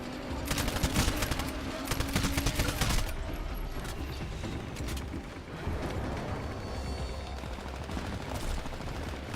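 R-101C carbine fire in Titanfall during a close-range fight, with rapid bursts of loud automatic shots crackling in quick succession, followed by mechanical clatter and further shots at lower intensity.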